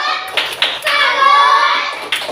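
A primary school class performs a rhythmic 'tepuk salut' clapping cheer for a student group: a few sharp, close hand claps, then a sustained chanted call from the children, with another clap near the end.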